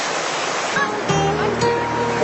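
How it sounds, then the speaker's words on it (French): A large, powerful waterfall among green slopes of the Fouta Djallon mountains pours in a loud, continuous rushing roar close by, with faint voices and tonal bits riding over the torrent. "des grandes cascades comme ça, entourées de tant de verdure, c'est vraiment super"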